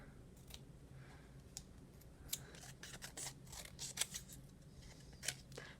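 Scissors snip through fabric repeatedly in short, crisp clicks, irregular at first then quicker in bursts, close up and fairly quiet, with no one speaking.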